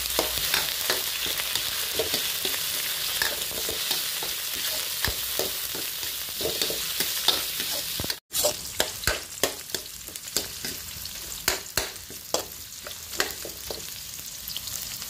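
Sliced onion and meat sizzle loudly as they fry in a pan for stringbean adobo. A continuous crackling hiss is broken by frequent stirring scrapes, close up and with no talk.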